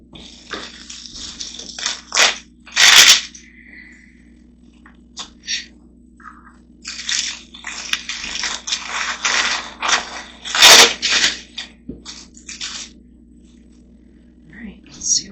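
Frozen trifle taken from the freezer being unwrapped: crinkling, tearing plastic wrap in irregular bursts with sharp crackles, close up, over a low steady hum.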